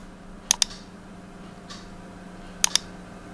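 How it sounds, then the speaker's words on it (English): Mouse-click sound effects added in Camtasia screen-recording software come as two quick paired clicks, one pair early and one later, crisp and close against a faint steady hum. "you want to have a click sound every time a click is done"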